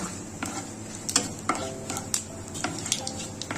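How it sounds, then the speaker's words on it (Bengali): Bay leaves, black cumin and cumin seeds fry lightly in oil in a pan, a soft close sizzle broken by spatula scrapes and clinks against the pan, no talk. "এগুলোকে হালকা এইভাবে করে ভেজে নেব"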